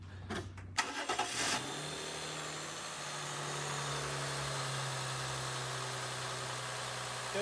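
A Toyota Chaser GX100 with a 1G-FE engine is started with all covers removed: a brief cranking burst, then the engine catches and settles into a steady, close idle hum with no talk.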